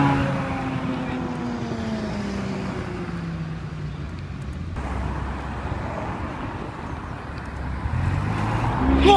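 Several supercars including a Bugatti Veyron, Ferraris and Porsche GT3 RS models in Alderley Edge roll past together, a steady loud engine rumble with rising and falling tones that swells again toward the end.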